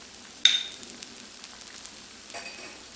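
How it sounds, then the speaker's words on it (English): Eggs dropped into hot oil on a Blackstone griddle give a sudden sharp hiss that fades into a soft steady sizzle, followed by a quieter scraping flare toward the end. "go ahead and drop my eggs right there."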